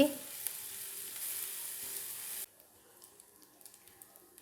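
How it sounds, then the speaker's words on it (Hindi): Garlic paste sizzles and crackles in hot oil for a couple of seconds, then the frying abruptly softens to faint, scattered pops. "लहसुन के पेस्ट को हमने इतना भूनना है कि कच्चापन दूर हो जाए"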